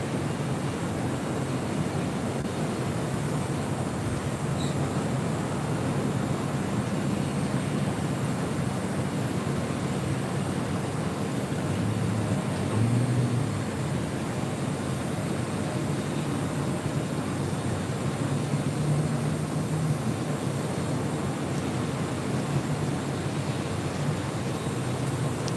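KLM Boeing 787-10 Dreamliner departing LAX from runway 24 left, a steady broad jet roar held for the whole span with faint wind noise, no voices.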